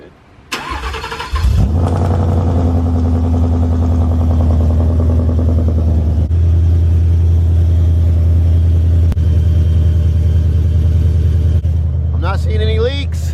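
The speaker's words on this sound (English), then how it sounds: "Parker's gonna start the car and let's see if it leaks." A 650 whp Mustang cranks briefly, fires up abruptly, then settles into a loud, lumpy idle close by, with a voice cutting in near the end.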